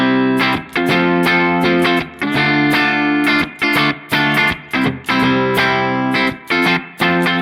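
Electric guitar hitting palm-muted open strings through a Donner Yellow Fall 2 pedal on hall reverb: loud, rhythmic chugging strikes, each cut short with brief gaps, some hits leaving a short reverb tail.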